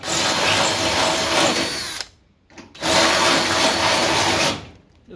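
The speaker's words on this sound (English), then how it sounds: "Now I'm going to drill out for the M6 bolt." Power drill boring a hole for an M6 bolt in a fabricated hood hinge plate for a Nissan Hardbody Pathfinder, two loud sustained whirring bursts separated by a short pause.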